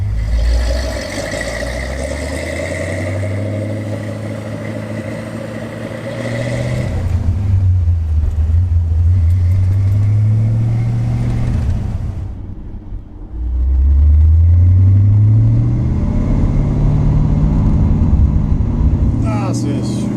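A 1966 Chevrolet Corvette C2 engine rumbles and revs as it drives, rising and falling through gear changes, with someone talking over it.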